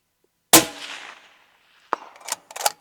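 A single sharp rifle shot cracks out loud and close with a long fading echo, followed by a few quick metallic clacks of a bolt being cycled and re-engaged.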